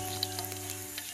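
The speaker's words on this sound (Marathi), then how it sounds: "त्यानंतर मी अर्धा चमचाभर एवढी मोहरी घालते इथे." Mustard seeds sautéing in a pan for a traditional honeycomb-style vegetable dish, a soft continuous sizzle with faint crackles over a low steady hum.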